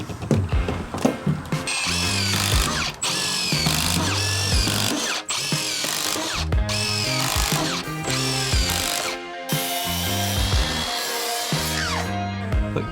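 A cordless power drill drives screws into frieze board on a house exterior, several loud whirring bursts in quick succession with short pauses and ratcheting bites between them.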